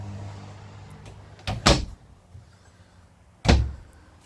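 A cabinet door to the under-sink storage in a 2025 RV kitchen is opened and shut, producing two distinct thuds about two seconds apart, close and fairly loud against a quiet background.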